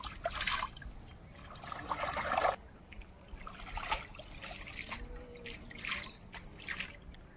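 A freshly dug garden elephant foot yam is rinsed in a Sundarban pond, giving close splashing and trickling water in bursts, with birds chirping faintly in the background.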